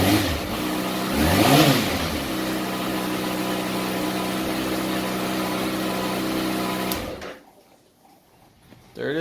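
A 2018 Kawasaki ZX6R motorcycle engine fires up and revs briefly, then settles into a steady, close idle for several seconds before cutting off abruptly into near silence.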